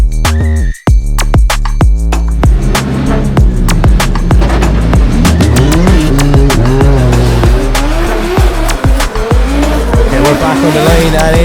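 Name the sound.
BMW 2 Series G42 drift car racing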